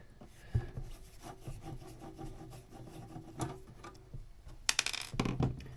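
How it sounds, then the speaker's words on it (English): A soft, continuous low rumbling purr from a cat close by, with faint rubbing and rustling noises over it and no talking. "that noise you can hear is Pink purring away"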